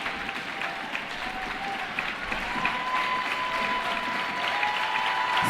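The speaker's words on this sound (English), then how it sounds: "Big applause, you guys for standing throwing the ovation" Crowd applauding and cheering in an ovation at a swing dance competition, a continuous broad roar of clapping that holds steady and swells slightly toward the end, with no talking over it.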